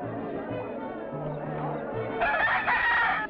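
A fighting rooster crows at a cockfight, a loud harmonic call rising near the end over a lively crowd murmur and scattered clucking.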